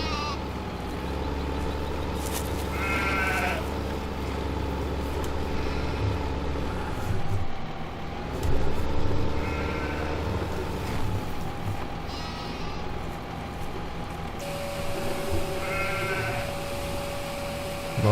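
Sheep bleat in a Farming Simulator 2015 game over a steady low drone of farm machinery, a front mower and vehicle; the bleats come in short harmonic bursts spaced every few seconds.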